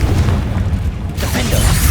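Spell explosions from Bombarda, Incendio and Confringo rumble continuously in Hogwarts Legacy combat, a dense, loud stream of deep booms and bursts with no clear break between blasts.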